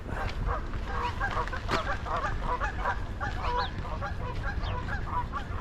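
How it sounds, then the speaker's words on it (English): A flock of Canada geese honking continuously in Calgary, many overlapping calls at moderate distance over a steady low rumble of background noise. "Geese are very vocal."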